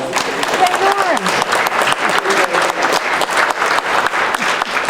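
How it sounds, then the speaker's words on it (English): Club members at a Sun City Summerlin political club meeting give a steady, full round of applause for the main speaker, dense clapping that fills the room with a few voices rising through it. "Let's give our illustrious leader a round of applause."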